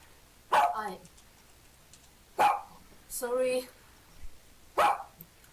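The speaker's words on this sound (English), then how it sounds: "Let him bark." A dog barks in short, sharp bursts, four or five separate barks spaced about a second or two apart, close and clear against a quiet background.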